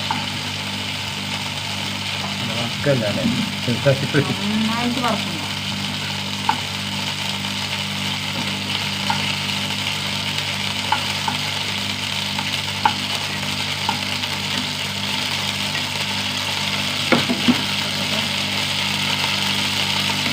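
Ingredients frying in oil in a pan for a Kerala-style dish, a steady sizzle running throughout with occasional stirring scrapes and clicks, fairly close and with no talking.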